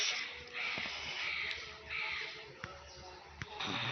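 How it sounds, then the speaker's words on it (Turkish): Crows caw repeatedly from a distance over steady outdoor background noise, with a few sharp clicks in between and no talking. "Kuşlar uçuşmaya başladı."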